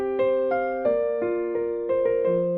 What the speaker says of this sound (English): that really should sound like this if you didn't do it rubato